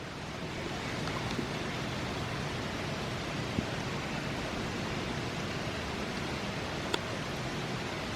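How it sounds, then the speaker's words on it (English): A creek rushing after heavy rain from a tropical storm, a steady broadband roar of fast water, fairly soft and unbroken, with no voices. "As expected, the creek is really rushing this morning."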